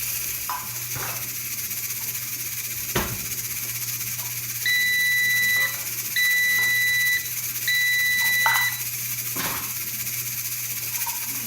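An appliance gives three evenly spaced electronic beeps, each about a second long, over a steady low background hum.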